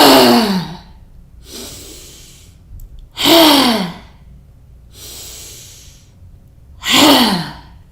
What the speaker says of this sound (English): Take a very deep breath in to prepare.